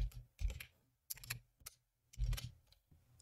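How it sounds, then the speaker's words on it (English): Password being typed on a computer keyboard: several short clusters of quick, close key clicks separated by brief pauses, with no talk. "Type in your password."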